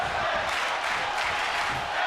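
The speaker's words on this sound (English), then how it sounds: "The crowd is on their feet screaming tag team wrestling." Arena crowd in a WWE 2K23 tag team wrestling match roaring and screaming loudly and continuously, a dense wash of cheering with no break.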